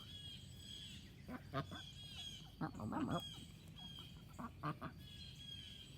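Ducks quack repeatedly, several short calls spread over a steady outdoor background, faint and some distance away.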